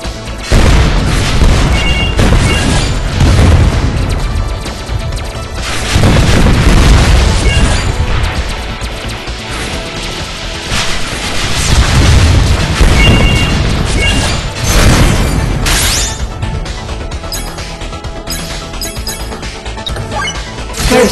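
Erosion missile explosions in the video game WinWing: loud, repeated booming crashes and bursts in quick succession, close and forceful, with brief lulls between heavier impacts.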